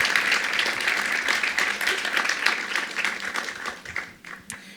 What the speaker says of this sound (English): I'd like to give a round of applause to our panelists.